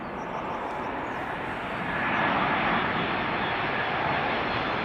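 An airliner on approach to Schiphol, its engines a steady broadband roar that grows a little louder partway through, heard alone without talk.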